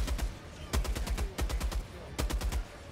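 Heavy support weapon laying down suppressive fire in Helldivers 2: loud bursts of rapid automatic shots in several clusters, each crack sharp and close, with brief pauses between volleys.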